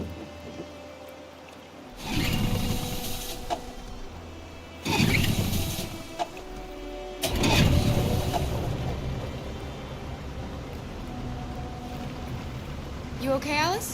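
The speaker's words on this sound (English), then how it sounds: "We're far enough out. We can use the engine." Boat engine in the video game Detroit: Become Human, starting in loud bursts and then settling into a steady running rumble, with rain-like wash and water noise around it.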